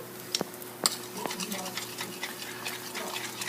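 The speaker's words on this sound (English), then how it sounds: "I'm going to whisk in this wonderful French mustard" Whisk working French mustard into a sauce in a pan, with a few sharp metallic clinks followed by quiet, rapid scraping and stirring, close but faint.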